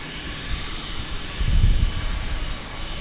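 A Boeing Dreamliner jet passing at DFW Airport, a broad steady engine roar that swells with a deep low rumble midway and then settles, heard from outdoors with no voices.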